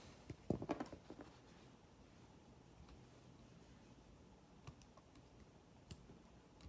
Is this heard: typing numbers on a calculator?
yes